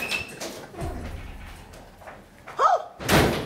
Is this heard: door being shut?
yes